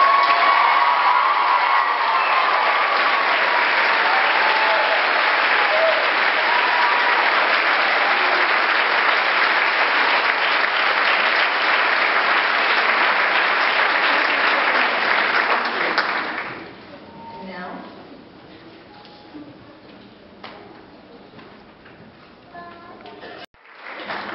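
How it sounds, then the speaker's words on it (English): A large audience applauds at a university nursing pinning ceremony, loud sustained clapping with some cheering and whoops that fades out after about sixteen seconds, leaving a quieter room. "Would you please stand and let's give them a round of applause."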